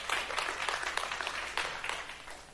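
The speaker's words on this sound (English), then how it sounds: "Can we give her a round of applause?" A congregation in church applauds a pastor after her first sermon, a short burst of scattered clapping that rises and thins, moderately distant and a little uneven.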